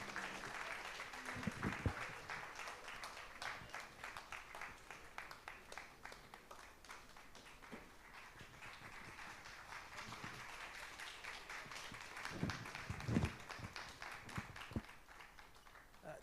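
Sustained audience applause in a hall at the official launch of AMSA, welcoming the Comptroller General to the stage; dense, steady clapping throughout at moderate distance, with a few louder bumps near the start and end.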